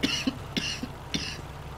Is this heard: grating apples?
no